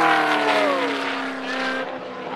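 A loud race car engine screams past nearby at Reno-Fernley Raceway, its pitch sliding downward as it recedes, followed by a second engine whine fading off.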